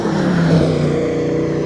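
A 1990 Ford Mustang LX engine roars loudly and steadily, its low rumble rising briefly in pitch before holding a constant drone as the car pulls away.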